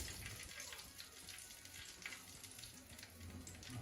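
Coconut-floured crayfish frying in hot oil, giving a steady, close crackling sizzle with small bubbling pops throughout and no talk.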